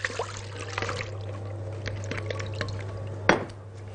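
Freshly washed raw chicken for chicken maqluba draining off its water: a soft, steady trickle and pour with a few light clinks of dishes, over a constant low hum, no talking.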